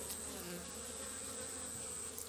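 Honey bees at a beehive colony with capped honey comb, buzzing steadily and close, a dense continuous drone with a high whine running throughout.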